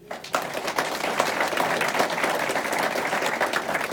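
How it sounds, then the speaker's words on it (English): A crowd breaks into applause that swells quickly and keeps going as steady, dense clapping. "Round of applause for that."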